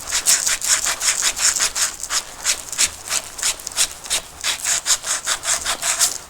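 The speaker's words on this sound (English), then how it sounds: "We're just going to keep cleaning." Copper pipe is rubbed clean with abrasive before soldering ball valves, a steady back-and-forth scratchy rasping in quick, even strokes, close and fairly loud, with no speech.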